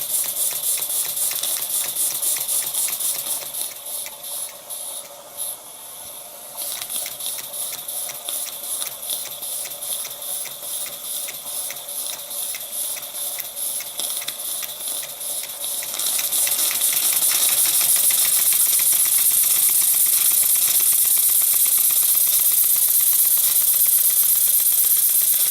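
A Stuart S50 model mill engine powered by a Jensen 20G runs steadily, giving a loud, continuous steam hiss over rapid, even mechanical beats. The hiss grows louder and brighter partway through, and no one talks.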